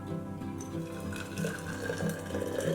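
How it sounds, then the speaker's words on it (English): Boiling water pours into a clean glass jar holding a teaspoon of cloves, a close, continuous liquid stream with rising filling tones over about three seconds. "we're gonna pour the boiling water on the top"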